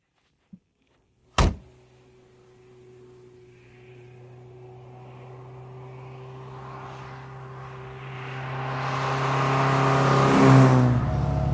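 A car door thunks shut, then the engine of a vintage MGA Twin Cam sports car starts and revs steadily higher as it pulls away and accelerates, loud and close throughout.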